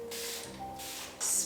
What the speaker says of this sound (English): Spraying it with some water.